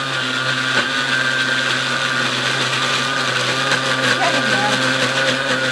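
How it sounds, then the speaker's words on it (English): A blender runs continuously at high speed, churning frozen produce for a smoothie, its motor droning loud and steady with a faint voice underneath. "it needs a little coaxing to get the blender going and blending things"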